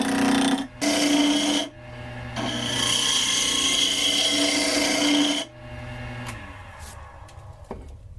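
An oak burnisher spins on a drill while being shaped, loud rasping and grinding in sustained passes with short pauses between them, then a quieter softer scraping near the end, close up with no talk.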